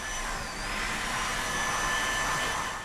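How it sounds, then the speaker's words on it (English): A continuous loud electric whir of blowing air from a hand dryer in the washroom of a new Swiss double-deck train, with a faint high whine, steady throughout and close by, no voices. "There was also a hand dryer."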